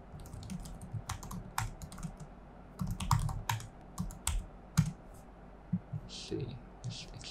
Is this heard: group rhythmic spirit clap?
no